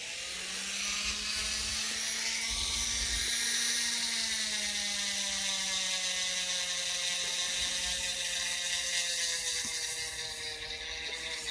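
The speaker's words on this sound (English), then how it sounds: "I'm not sure how loud this Dremel is going to be" A Dremel rotary tool polishes an egg with a steady, close, high-pitched whir that rises and falls slightly in speed, running alone without talk.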